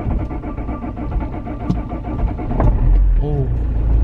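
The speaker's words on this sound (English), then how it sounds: "let me start my car" A car engine cranks and catches, rising from a low idle into a louder, throbbing run toward the end, heard close with some background noise.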